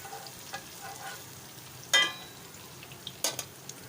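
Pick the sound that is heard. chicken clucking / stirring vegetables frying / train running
stirring vegetables frying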